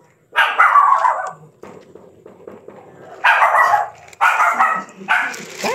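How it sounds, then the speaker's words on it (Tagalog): Dogs barking loudly and close by in several rough bursts with brief gaps, some barks overlapping, with faint background noise between them. "Ay, may mga aso."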